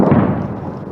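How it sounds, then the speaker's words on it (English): A heavy thud from a US coalition airstrike in Raqqa, a single deep, booming impact that rolls away and fades over about a second. "There's the thud of US coalition airstrikes."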